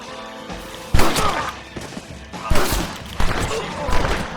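Gunshots in the video game Red Dead Redemption: several loud, sharp cracks in irregular succession, each with a short echoing tail, over a steady background.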